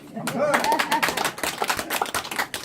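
A lecture audience at a Partners Group business talk by the chairman claps in a dense, rapid burst that runs for a few seconds, with voices mixed in early on.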